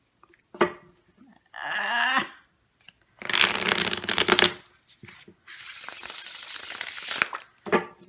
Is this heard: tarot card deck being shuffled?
yes